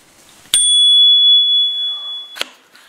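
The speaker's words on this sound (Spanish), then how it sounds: "Tiene hasta timbre." A bright bell on a Segway Ninebot kick scooter is flicked once, ringing out clearly close by with a sustained metallic tone that slowly fades before a second tap ends it.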